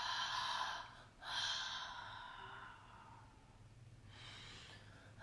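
A person takes a few deep, audible breaths, drawing air in in stages before going quiet as if holding it, heard close and breathy with no talking.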